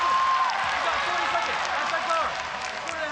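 Crowd at a ONE Championship women's MMA bout cheering and applauding a takedown, a dense, loud sustained roar of clapping and shouting with commentators talking over it.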